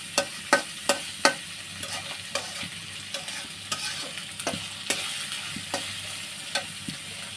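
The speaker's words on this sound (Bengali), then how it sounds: "আমি এটা ভালো করে ভেজে নিব।" Turmeric, chili powder and salt frying in a pan for rohu fish curry, with rhythmic spatula knocks and scrapes over a steady close sizzle; the knocks are stronger at first and then lighter.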